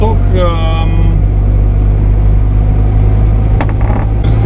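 A Zastava 750 Fičo car's small engine hums at a steady low drone while driving. Someone talks over it throughout, and brief squeaks and clicks are heard.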